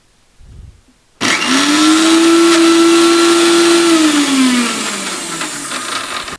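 An electric blender whirs loudly and steadily, grinding oil into homemade mayonnaise, starting abruptly after a brief quiet moment and running for several seconds with a steady motor tone that dips slightly near the end.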